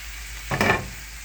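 Hot Italian sausages and chopped vegetables stirred in a pan, a single short burst of sizzling and scraping that swells and fades within a second against a quiet background.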